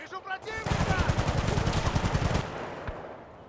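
Rapid automatic gunfire from the Battlefield Bad Company 2 video game rattles in a dense burst of repeated shots for about two seconds, then fades, with a voice talking faintly at the start.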